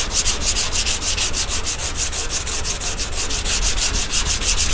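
Block sanding over primer on car bodywork during metal repair: a steady, rhythmic rasping stroke repeated about five times per second, close and continuous with no talking.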